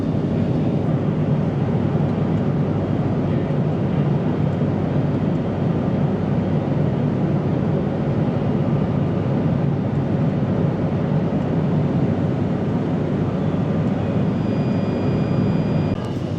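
Binter Canarias propeller airliner in flight near Tenerife with thrust reduced, a steady broad engine and airframe drone filling the cabin at constant loudness, with no talk.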